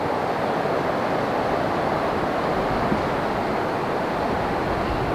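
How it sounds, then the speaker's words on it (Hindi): A river in the Himachal hills rushes past in a dense, even roar of flowing water, steady and close throughout with no voices. "नदी"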